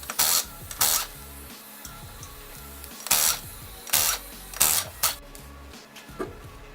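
Power tool with a socket spinning lug nuts off a car wheel, short loud whirring bursts repeated several times up close, with clicks of handling between them.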